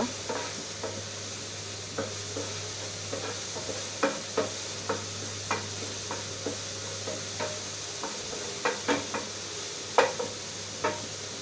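Prawns fry gently in a pan, giving a soft continuous sizzle, while a utensil stirs them with a series of light, regular scraping taps close by. No one speaks.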